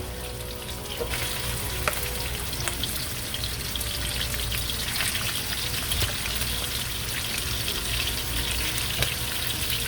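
Steady close sizzle of one pound of pork frying and browning in a pan for egg rolls, a continuous crackling hiss with small pops throughout and no talking.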